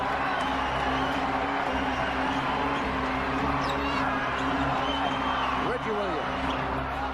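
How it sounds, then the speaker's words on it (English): A basketball crowd at the Coliseum during a 1990 NBA playoff game between Portland and San Antonio roars in a steady, dense wash of cheering. A commentator talks over it throughout. "And the crowd here at the Coliseum near delirium."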